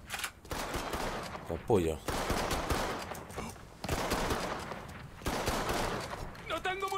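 Heavy gunfire in the crime game Mafia 3, with dense automatic bursts and shots in loud waves and short pauses between volleys, and a voice shouting briefly over the din.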